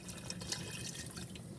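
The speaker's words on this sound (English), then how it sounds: "the next thing we're going to do is top off the water." Water pours over pork for braised carnitas, a steady close splashing and trickling of liquid filling the pot, brief and uninterrupted, with no talk.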